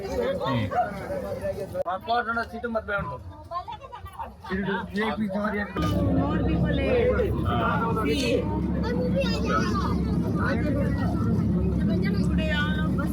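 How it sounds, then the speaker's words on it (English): Crowded local bus in India heading toward Jaisalmer, with a steady engine rumble and road noise under constant passenger chatter and nearby voices, growing louder partway through. "So this is what a local bus experience is like"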